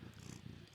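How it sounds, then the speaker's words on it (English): A cat purrs softly and closely in a brief, faint, rhythmic rumble with no voices. "If you hear a cat meowing out, that's most likely her."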